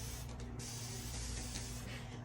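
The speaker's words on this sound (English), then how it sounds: "spraying with a spray bottle" A handheld spray bottle mists water onto the roots of a succulent being repotted from a store pot, giving a steady soft hiss of fine spray that runs continuously with brief pulses, close up and without talk.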